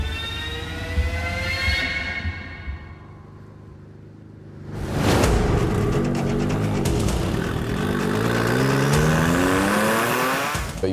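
A race car pulls off the start line in first gear, its engine revving up loud and close before the pitch drops, then climbs again in sweeping rising whines as it accelerates away.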